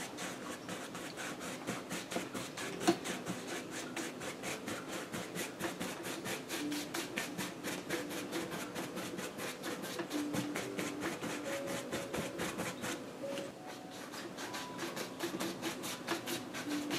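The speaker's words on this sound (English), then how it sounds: "I'm just gonna rub them in there a little bit. Kind of buff them in." A paintbrush rubs and buffs paint onto a canvas while painting flowers in a vase of fern, making a steady, soft, dense scrubbing texture that runs continuously and quite faint from start to finish.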